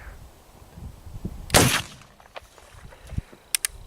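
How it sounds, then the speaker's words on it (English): A single sharp, loud gunshot from a .54 caliber Hawken muzzleloading rifle firing a 425 grain Hornady Great Plains bullet over 110 grains of powder, outdoors, followed by faint clicks and thuds. "Montana Mountain Man is going to be shooting a 425 grain Hornady Great Plains bullet with 110 grains of RS powder"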